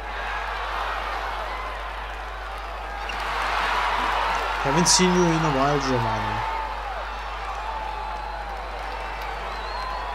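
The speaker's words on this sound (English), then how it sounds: "this is a great opening day crowd" Stadium crowd in the Cars Mater-National video game keeps up a steady, fairly loud cheering roar under the whole stretch, swelling slightly in the middle while a voice speaks over it.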